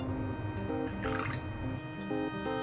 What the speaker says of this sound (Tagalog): Ilagay ng escabeche sauce.